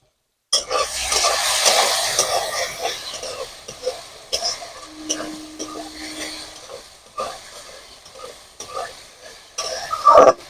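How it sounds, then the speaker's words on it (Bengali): Spices being stir-fried with green banana in a pan for a fish curry, a soft steady sizzle and scraping stir that runs throughout, with a few louder clinks near the end. "সবকিছু মশলা একদম কলার সাথে ভালোভাবে কষানো হয়ে গেছে"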